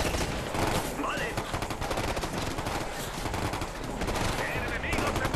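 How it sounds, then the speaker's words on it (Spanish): Heavy gunfire in Ghost Recon Future Soldier: dense, continuous bursts of automatic rifle fire and scattered single shots, loud and close, with brief spoken callouts now and then. "Disparan"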